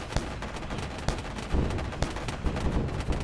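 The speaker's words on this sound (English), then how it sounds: "let's check out the secondary guns right now and see how they operate" A ship's secondary guns fire in Wayward Terran Frontier, dense rapid bursts of loud gunfire cracking in quick succession with heavy thumps under a constant rumble.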